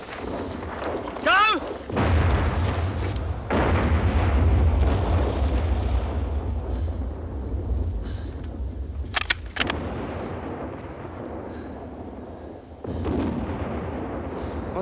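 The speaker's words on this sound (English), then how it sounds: "Look out! Bomb!" Heavy bomb blasts and rattling gunfire in a First World War battle scene, with deep booming explosions rolling on and on and a sharp burst near the middle. Shouting voices cut in briefly over the din.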